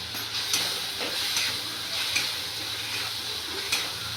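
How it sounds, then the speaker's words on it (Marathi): Bombil (Bombay duck) masala frying in a pan, a steady close hiss and sizzle with faint intermittent clicks and stirring taps. "आता 2 मिनटं फ्राय होऊ देऊया"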